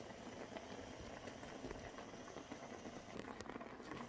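Creamed spinach with egg simmering in a pan, giving a steady close bubbling and soft popping that carries on without a break and without voices.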